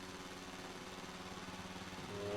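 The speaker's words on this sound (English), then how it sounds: "The revs building up" Motorcycle engines revving together on the starting grid at the Mugello track in the MotoGP 26 racing game, a steady droning whine that rises near the end, heard alone at moderate level.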